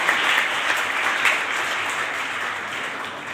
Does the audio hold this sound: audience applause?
yes